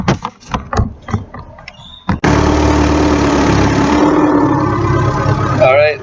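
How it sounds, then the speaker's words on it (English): After a few brief knocks and sounds, a car engine turns over and settles into a steady, close idle in drive during a transmission pressure test, humming without change. "The car is turned on and it's idling."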